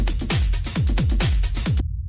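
Rave techno drum loop through Saturator distortion with the color setting off: a pounding, pitch-falling kick on a steady beat with crunchy, saturated hats and percussion, loud and dense before stopping sharply.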